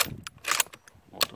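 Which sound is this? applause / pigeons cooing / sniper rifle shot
sniper rifle shot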